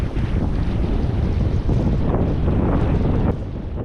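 Steady, loud wind buffeting a microphone aboard a sailboat heading up the coast to Southwold against a flooding tide, a continuous roar with a faint wash of water beneath, no voices.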